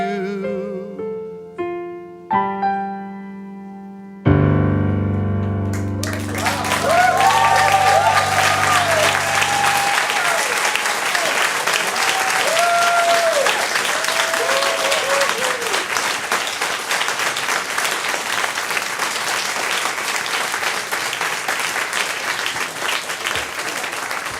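Loud applause from a church congregation at a Sunday worship service, breaking out right after a sung performance ends and carrying on steadily as a dense wash of clapping, with scattered cheers and a few voices over it.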